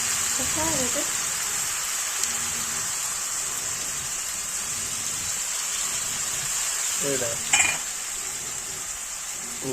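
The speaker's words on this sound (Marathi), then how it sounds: "कांदा स्वस्त परतून घ्यायचा आता अशा पद्धतीने ब्राऊन होत तो थोडासा परतून घ्यायचा" Onions sautéing in a pan for pav bhaji, a steady close frying hiss all the way through, with a voice speaking briefly at the start and again near the end.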